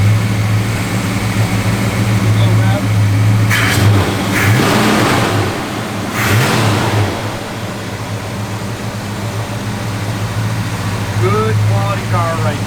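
1972 Chevrolet Monte Carlo engine running steadily up close with a low, continuous drone and a few brief rises in revs; people talk over it.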